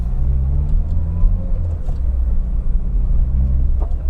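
Peugeot 405 Mi16 engine heard from inside while driving, a steady deep rumble and drone with a slight rise in revs, loud and continuous with no talking.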